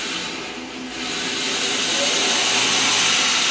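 A small Japanese resaw runs on a variable frequency drive, giving a steady, broad whirring hiss that swells after a moment and then holds loud and continuous.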